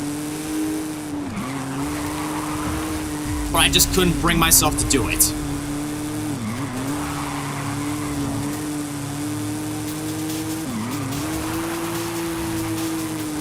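A sports car engine in the video game Forza Horizon 5 drones steadily with shifting revs, broken by a short burst of tire squeal; someone talks over it.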